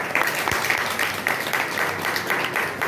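Lecture audience applauding, a dense steady wash of clapping with a rhythmic pulse, close and fairly loud, with faint speech mixed in.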